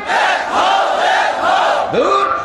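A large crowd chanting the slogan Nara-e-Takbir in unison, loud rising and falling voices in rhythmic waves, with a brief upward swooping shout near the end.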